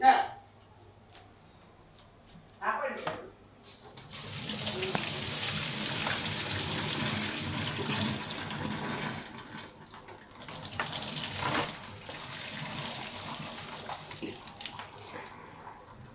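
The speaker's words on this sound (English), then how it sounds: "I have here a plastic strainer which I'll be using to drain out the excess water" Hot water that has just been boiled on a stove pours through a plastic strainer, giving a steady rushing, splashing flow like a running tap that goes on for most of the stretch, with a brief clatter near the start.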